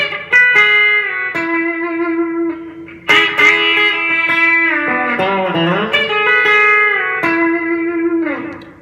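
A B-bender electric guitar lick played with the pick near the bridge for twang, with bent notes sliding in pitch and short staccato chicken-picking ghost notes on the third string, loud and clear with no talking.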